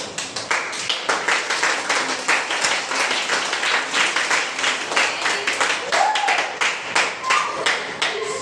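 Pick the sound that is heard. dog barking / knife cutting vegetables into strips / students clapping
students clapping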